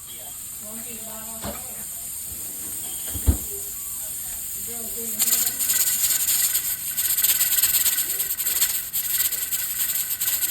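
A pressure canner full of green beans vents pressure with a steady hiss that grows louder halfway through, alongside faint rattling and a brief knock, while a voice talks quietly over it early on.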